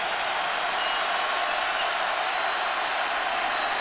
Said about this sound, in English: the crowd coming to its feet